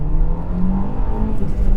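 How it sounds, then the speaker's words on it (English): A Hyundai i10 supermini's engine and exhaust revving, a steady close droning note with a slight rise and fall. "it makes a really good exhaust note for some reason"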